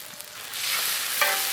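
Chopped onions and tomatoes fry in a pan, a bright hiss that swells and grows louder as they are stirred, close and uninterrupted, with no voices.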